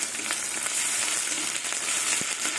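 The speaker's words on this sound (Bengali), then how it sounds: "এবার আমি অল্প করে আদা দেবো আর পরে একটু কাঁচা আদা দেবো" Ginger sizzles loudly and continuously in hot oil in a pan, a dense hiss with a few sharper spits and crackles breaking through.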